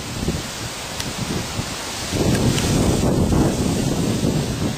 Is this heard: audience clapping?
no